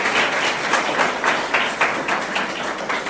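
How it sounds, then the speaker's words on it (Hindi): Audience clapping at a school Republic Day ceremony with tree planting, a sustained round of moderately loud applause with individual claps audible throughout. "उनका तालियां बजाकर अभिनंदन"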